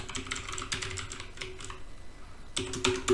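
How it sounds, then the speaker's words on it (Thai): Quick bursts of key clicks come from an email address being typed on a computer keyboard, close and crisp, with a short pause before a final flurry of taps. "ให้พิมพ์ นะครับอีเมลของเราลงไป"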